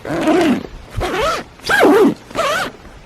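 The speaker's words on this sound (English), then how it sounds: "Does anybody else love the sound of tent zippers?" Four quick tent zipper pulls in a row, each a rasping sweep lasting about half a second, close and clear with short pauses between.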